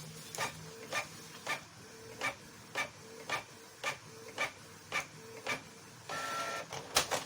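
A cartridge printer with a new cartridge that prints broken, streaky lines runs through pages as a steady, evenly spaced series of a dozen mechanical passes, followed by a brief continuous whir, clear and close with no talking.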